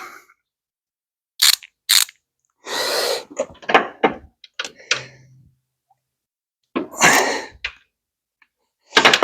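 A wrench tightens the water pump bolts on a 2012 Toyota Prius, with close, sharp bursts of ratcheting clicks separated by silent pauses.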